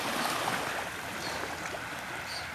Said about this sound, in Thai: ฟังเสียงคลื่นเบิ้งหาดทรายสีขาวๆ พี่น้อง